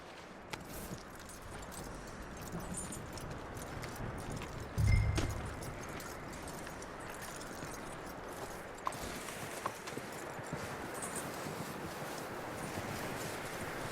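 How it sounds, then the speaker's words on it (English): A horse's hooves clip-clop steadily in Red Dead Redemption 2, a continuous patter over busy outdoor ambience, with one heavier thump partway through. "That looks like a decent horse."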